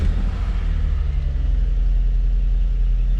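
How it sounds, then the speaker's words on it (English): A steady low engine rumble from an Infiniti I35 car running at idle, constant and close with no voices. "Now we need to start the engine."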